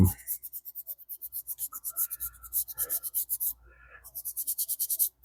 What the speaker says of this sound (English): Sand your body, or whatever it is you're sanding.